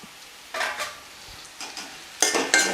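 Torn chapati pieces stirred into spicy masala frying in a pan, with soft sizzling and a few scraping stir strokes coming in short bursts, close and fairly loud, no talking.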